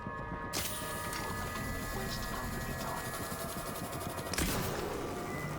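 Bolt gun fired in the survival horror game Alien Isolation, two sharp bursts cutting through a dense, loud mechanical rumble, the second near the end standing out most clearly.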